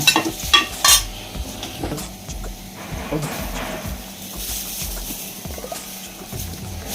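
Drumstick leaves dry-roasting in a pan crackle softly while a spoon scrapes and stirs them, with a few louder clinks near the start and a low continuous rustle throughout.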